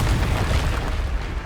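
Confringo fire spell explosion in the Hogwarts Legacy video game on PS5, a loud, low rumbling blast that sustains for a moment with a dense, roaring body.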